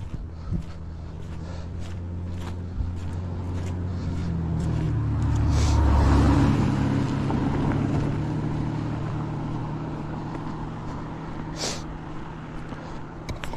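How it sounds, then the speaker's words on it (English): A motor vehicle passes along a road near a lake in a recreation area, its engine rumble swelling to a peak midway and fading away, with wind and faint outdoor ambience throughout. "Speaking of traffic,"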